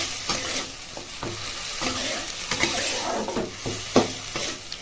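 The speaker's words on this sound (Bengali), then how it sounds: "পেস্ট করে রাখা মশলাটা দেওয়ার পর ভালো করে কষিয়ে নিতে হবে বন্ধুরা" Ground spice paste frying in hot oil for a cauliflower dish, a continuous close sizzle broken by regular scraping stirring strokes, no speech.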